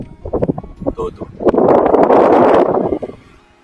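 A household fan converted from an AC motor to a 12 or 24V DC motor, running at full speed, gives a loud, steady rushing whoosh for about a second and a half after some short talk, then fades out.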